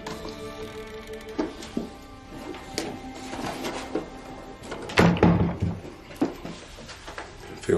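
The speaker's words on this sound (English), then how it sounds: "Feels weird to knock." Knocking on a door in a quiet house at night: a few soft, hollow raps spread through the stretch, with one firmer cluster near the middle and a faint roomy hush between them.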